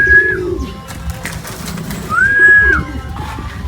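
Pigeons being loaded into a basket coo in two drawn-out, rising calls, close and moderately loud, with light shuffling and handling noise between them and no talk.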